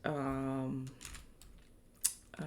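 Several brief keystroke clicks on a computer keyboard, typed while entering a lost-love song theme into an AI music tool, follow a short sustained tonal voice and sit fairly close and moderately quiet.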